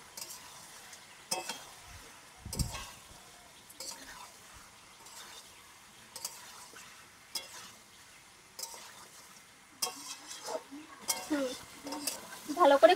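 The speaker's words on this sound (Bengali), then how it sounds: "এখন ভেজে নেওয়া মাছ ও আলুটা দিয়ে দেবো। মশলার সঙ্গে একটু কষিয়ে নেব।" Fried Shankar fish pieces and potato are turned with spices in a pan, quiet intermittent scrapes and light sizzling with scattered clinks, growing busier and louder toward the end.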